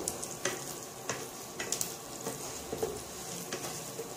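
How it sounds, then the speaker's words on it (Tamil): Onions, vegetables and fennel seeds sauté in a pan for a vegetable serva (salna) curry, giving a steady close sizzle broken by several sharp scrapes and clinks of a stirring spoon. "இப்போ இத எல்லாத்தையும் நம்ம நல்லா வதக்கிக்கலாம்."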